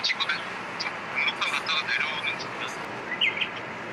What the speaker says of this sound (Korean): 새소리, 새소리 들린다